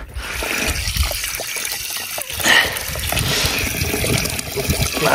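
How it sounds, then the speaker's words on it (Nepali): Cold water is poured into hot food at a high-mountain camp, a close, steady trickle and splash with a brief louder gush midway. "अलि चिसो पानी हाल्नुपर्ने हुन्छ धेरै तातो छ"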